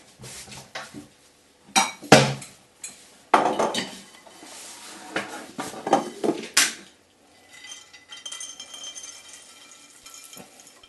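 Pistachios freshly roasted in a pan are tipped out into a cool bowl, giving bursts of rattling, clinking metal and crockery knocks with short pauses between pours, fairly close and without voices.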